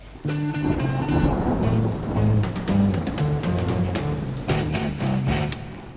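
Rain falling on a golf course, a dense, steady wash of patter with low rumbling underneath and a few sharper taps, loud and continuous with no talking.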